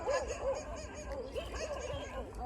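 Small puppy on a roadside in Thailand, yipping and barking in short repeated bursts over steady outdoor background noise, fairly close and moderately loud.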